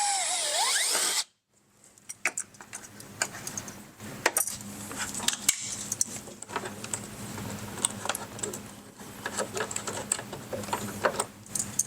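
A drill whines sharply for a moment while boring a hole in a 2024 Polaris RZR XP 1000 fender bracket, then gives way to a string of small clicks and knocks from handling nearby.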